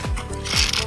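Plastic lever on a Transformer One Touch suction-mount phone holder being flipped open, giving a short, close mechanical ratcheting click and rub with two quick clicks under a second.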